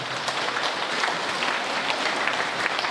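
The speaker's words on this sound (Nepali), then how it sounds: "फेरि एकचोटि आफै लागि जोरदार ताली बजाइदिनु होला" Steady applause from an audience fills the whole stretch, dense continuous clapping at fairly close range with no voices standing out.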